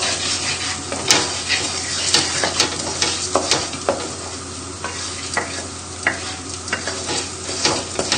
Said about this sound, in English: add in the risotto and give it a good stir about